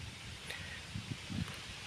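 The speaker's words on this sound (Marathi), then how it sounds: "मस्त वारा सुटला" Wind stirs trees and leaves near a peepal tree and areca and coconut palms around an old temple in Chiplun, Konkan, a faint, soft rustle with a few gentle gusts.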